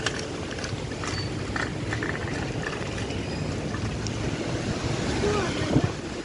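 A blizzard wind roars outdoors, a strong, continuous gusting rush that buffets the microphone loudly for the whole stretch and swells slightly near the end.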